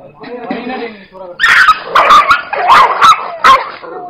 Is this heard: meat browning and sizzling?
no